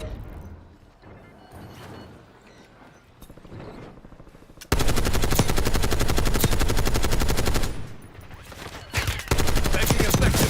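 Gunfire in a video game: quieter scattered shots and movement at first, then a sudden loud, sustained burst of rapid automatic fire, a brief pause, and another burst.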